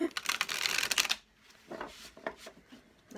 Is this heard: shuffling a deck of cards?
yes